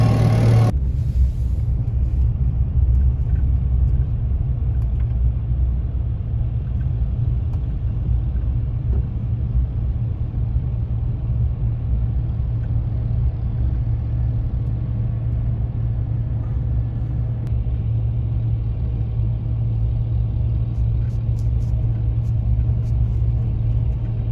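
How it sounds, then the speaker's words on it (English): Steady low diesel drone from a Versatile 895 tractor fitted with a semi-truck engine, idling and running evenly at a constant throttle, loud and close throughout with no talking. "You can definitely tell this is a semi-truck engine in here just by the way the throttle and the governor works on it"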